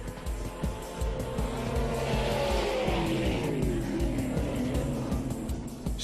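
A drag boat hydroplane engine roars loud and steady, its pitch sliding as the boat races across the water, with a constant harsh rumble and no talking.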